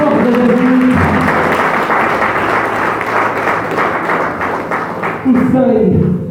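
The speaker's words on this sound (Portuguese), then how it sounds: "Aplauda bem forte, Jesus." Church congregation applauding at a worship service, a loud sustained wash of clapping for several seconds, framed by a preacher's voice at start and end.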